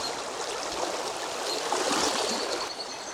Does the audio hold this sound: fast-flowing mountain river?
yes